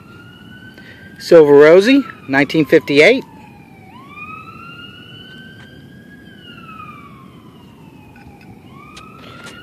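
A siren wails steadily in the distance, its long rising and falling tones running under a brief burst of nearby speech.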